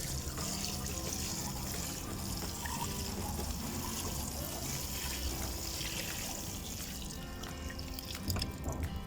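Water poured onto freshly planted radish seeds in soil in a Cape Town garden, a steady close trickle and splatter running continuously with small drips, alone without talk.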